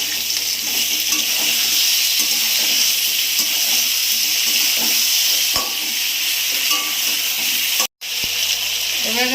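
Ginger and green chili paste frying in a pan for a thin hilsa and eggplant curry, a steady broadband sizzle throughout with occasional stirring clicks and a brief dropout near the end.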